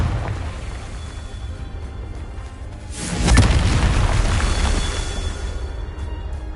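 A Confringo spell goes off in the video game Hogwarts Legacy as a single heavy boom partway through, swelling out of a dense rumbling game soundscape and then fading back into it.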